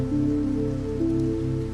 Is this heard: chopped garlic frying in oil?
no